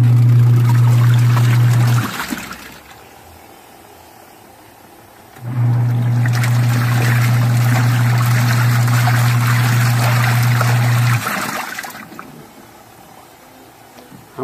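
Costway mini washing machine agitating three gallons of water on a six-minute wash cycle, a loud steady motor hum with sloshing water in two long bursts separated by a quiet pause, no talk.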